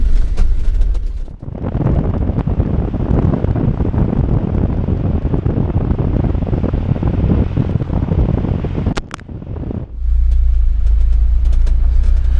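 A Land Rover Discovery with a diesel engine and a turned-up fuel pump drives along, its rumble buried under heavy rushing wind noise that drops out briefly before a deep engine drone returns loudly at the end.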